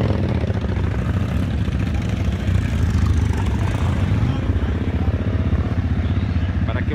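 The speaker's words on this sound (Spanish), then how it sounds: "Para que observen también los diferentes tipos de motocicletas" Several motorcycles idle together at a motorcyclists' toy-delivery event for children in Las Arenitas, a steady low rumbling drone holding evenly throughout, with faint background voices mixed in.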